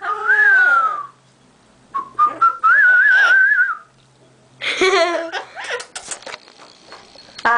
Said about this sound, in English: Do a whistle like whoo.